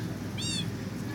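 Cats meow in a house during rain, one clear rising-falling meow in the middle of the clip over a steady loud rumble of rain and background noise.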